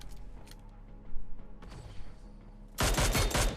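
Gunfire in PUBG Mobile, with scattered quieter shots and mechanical clicks that lead into a loud, dense burst of rapid fire at the end, all without talk.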